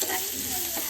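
Green chillies and ginger fry in a hot pan with a steady, dense sizzle and light stirring, close and continuous for under a second with no talk.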